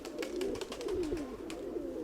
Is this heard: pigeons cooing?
yes